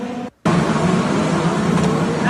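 IndyCar race cars speeding around a street track in Washington, a loud, continuous roar that drops out for a split second, then surges back and holds steady without any voices.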